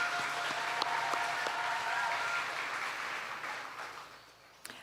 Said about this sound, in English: Let's give all of our Little Miss contests one final round of applause.